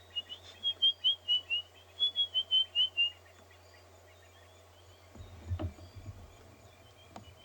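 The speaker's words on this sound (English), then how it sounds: "some robins calling." Robins call at Ngala Private Game Reserve with a run of about a dozen rapid, high chirping notes, then quiet, followed by a brief soft rustle and another faint call.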